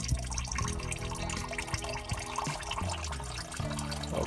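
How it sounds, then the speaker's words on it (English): Fuel drains from a filter on a 6.7L Super Duty diesel into a mud bucket, giving a faint, continuous trickle and patter of liquid over low background noise. "undo this tap and drain that in the mud bucket"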